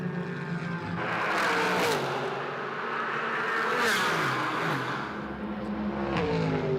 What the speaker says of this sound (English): That Callaway Corvette rips through, then the Porsche and the two Astons. Each brand, each car with its distinct note.